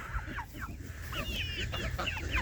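Several chickens cluck and chatter nearby in short, overlapping calls over a low background rumble.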